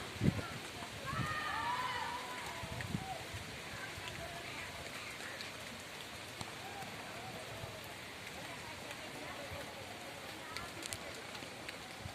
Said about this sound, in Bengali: বৃষ্টি হচ্ছে প্রচুর